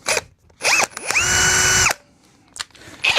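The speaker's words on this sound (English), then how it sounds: "drilling now." A power drill bores holes during a guitar amplifier build, whining up in several short bursts: a quick blip, a brief run, then a longer sustained spin-up and wind-down, followed by further short bursts, close and loud.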